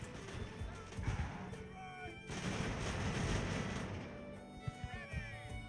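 Naval cannon fire booms repeatedly in the age-of-sail battle game Ultimate Admiral: Age of Sail, heavy irregular blasts and rumbling volleys swelling under dense battle ambience, with a voice talking faintly over the action.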